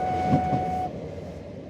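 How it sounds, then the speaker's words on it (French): Old meter-gauge train in France, France's oldest, rolling along with a steady low rumble and a faint thin whistle-like tone above it, moderately distant and fairly quiet. "France's oldest train actually runs on one of the country's last surviving 1-meter gauge tracks."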